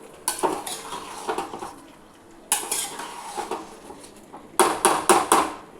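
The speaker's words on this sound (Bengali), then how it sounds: "এবারে ভালো করে আলুগুলোকে মশলার সাথে সুন্দর করে মিশিয়ে দিই।" A metal spoon scrapes and clatters against a pan while potatoes are stirred with spices over a lowered gas flame, in short bursts of stirring separated by quieter pauses.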